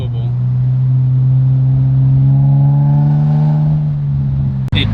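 An Infiniti G35 running with no exhaust manifold revs up loudly, its deep droning tone swelling and rising in pitch before cutting off abruptly near the end.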